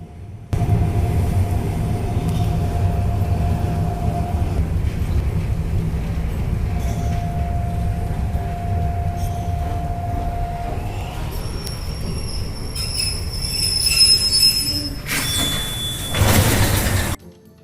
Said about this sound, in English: noticed a railway echelon of the occupiers heading north